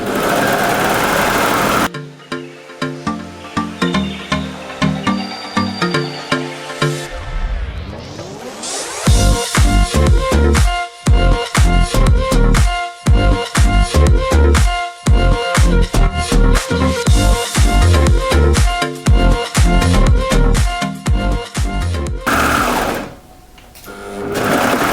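A sewing machine runs in bursts while stitching sweater ribbing, starting and stopping repeatedly with a rapid mechanical rattle, loud and close, with handling noises between runs and no talking.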